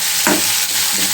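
Chopped onion frying in oil in a pan alongside bay leaf, cardamom, cinnamon, cloves and pepper, a loud close sizzle with a brief stir partway through.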